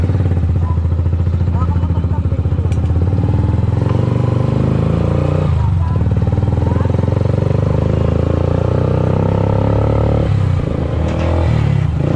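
A motorcycle engine runs loud and close throughout, a steady throaty drone with slight revving and some rattling clatter.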